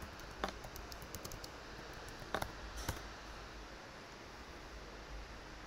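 Faint, sparse clicks of a computer keyboard as a password is typed, a few soft isolated taps over a quiet hiss, with no one speaking.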